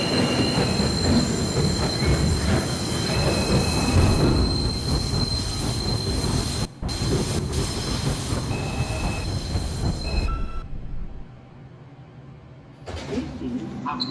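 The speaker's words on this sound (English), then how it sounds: "This is a Bronx-bound 2 train." A New York subway train, a Bronx-bound 2 train near 110th Street, rumbles and roars loudly with squealing wheels and rattling, then quiets briefly as it slows before the noise picks up again.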